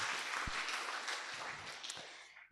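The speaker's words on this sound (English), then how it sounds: "Another round of applause, a more energetic one." Applause from the audience at an inter-schools health debate, a dense wash of clapping that stays fairly steady and fades out at the end, with a few sharper low thumps in the mix.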